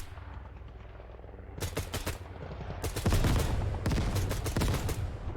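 A rifle fires on a shooting range in the tactical video game Ground Branch. Rapid automatic bursts ring out loud and close, with short pauses between strings of shots and a low steady background hum.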